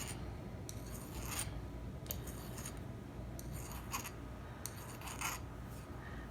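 A metal file scrapes along the edges of a copper jewelry blank in quick rasping strokes, about a half dozen short passes repeated at an uneven rhythm, close up and fairly quiet.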